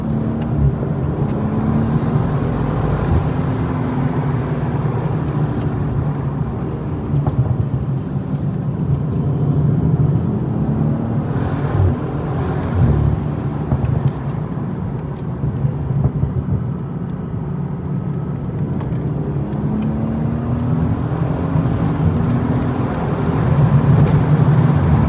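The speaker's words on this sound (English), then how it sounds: "I hope you guys can hear the engine" A BMW M240i engine drones steadily while driving wet mountain roads, a continuous close-up hum with road and tyre noise throughout, rising slightly in loudness near the end; no talking.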